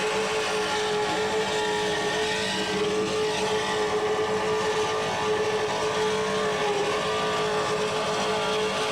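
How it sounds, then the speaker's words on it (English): Aluminum Donovan-block engines of racing powerboats roar steadily and continuously, a dense droning rumble at full throttle with no pauses. "Listen to the motors in there."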